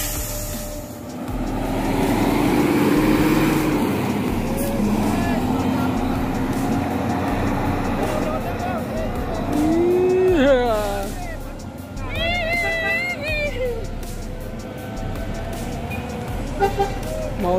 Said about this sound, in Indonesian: bus Medan memasuki Terminal Badai Solo